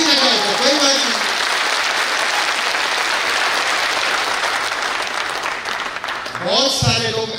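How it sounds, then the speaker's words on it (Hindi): An audience claps during a talk on habits and wealth, with steady, sustained applause filling the hall and a voice speaking briefly at the start and end. "अगर ये अच्छा लगा हो तो ठीक से ताली बजाइए"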